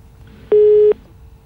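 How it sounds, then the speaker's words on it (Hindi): A telephone busy or disconnect tone on a dropped call during a Hindi news broadcast: a single short, steady electronic beep, loud and clean over faint background hiss. "फोन कट गया"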